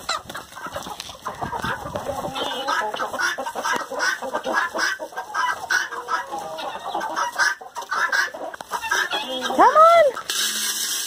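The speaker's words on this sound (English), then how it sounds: "Chicken coop number one." Flock of chickens clucking inside a coop, a busy chorus of close, overlapping clucks and rising squawks throughout, with a person's voice mixed in among the birds.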